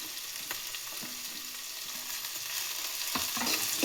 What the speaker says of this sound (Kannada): ಸೊ ಟೊಮೊಟೊ ಹಾಕ್ತಿದ್ದೀನಿ.